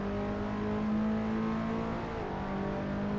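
A race car engine in the Assetto Corsa racing game drones steadily at high revs through a right-hand corner at Kyalami, a loud continuous whine with no voices.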